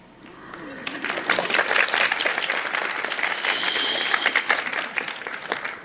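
Audience applause fills a live Q&A session, a dense wash of many hands clapping that swells after a quiet start, holds steady, then tapers off near the end, with a few murmured voices mixed in.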